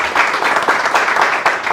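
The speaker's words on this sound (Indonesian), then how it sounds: "Mana tepuk tangannya? Berikan sorak-sorai buat Tuhan." Loud audience clapping at a religious debate gathering, a close, dense burst of many hands with uneven swells and no pause.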